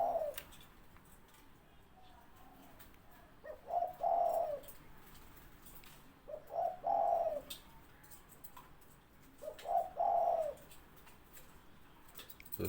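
Doves coo near a trained bird out in the sun, three separate two-part calls at a steady interval, moderately close and clear over a quiet background.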